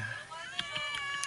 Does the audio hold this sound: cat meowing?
yes